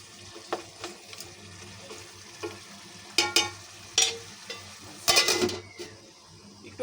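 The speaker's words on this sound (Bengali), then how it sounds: "মাংসগুলো দিয়ে এখন কষাবো।" Beef chunks stir-fried in a pan during slow browning for a Bengali-style beef curry, with a steady background sizzle and intermittent louder scraping, clattering stirs of the spatula against the pan.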